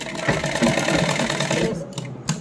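A sewing machine stitches a half-inch seam on a salwar with a steady, close, continuous whir that breaks into short bursts near the end, with no talking.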